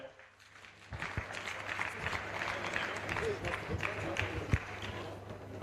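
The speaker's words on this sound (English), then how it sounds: "Please, a round of applause for them" A conference crowd applauds a presenting group, with sparse, thin clapping from a small audience and some background murmur.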